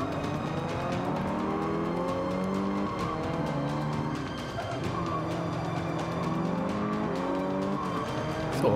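Race cars in Forza Motorsport 5, including a Scirocco, scream at high revs with rising and falling engine tones through gear changes, plus tire squeal, loud and continuous.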